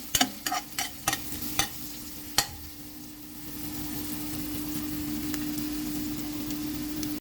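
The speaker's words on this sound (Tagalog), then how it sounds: "tapos na akong naggisa ng ating sibuyas" Onion and ginger are sautéed in a pan: a few sharp utensil clicks and scrapes at first, then a steady, even sizzle with a faint hum continues alone to the end.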